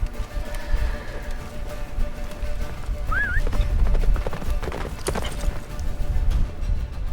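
Galloping horse in The Witcher 3, a steady clip-clop of hooves running under game music and ambient noise, with a brief whinny partway through.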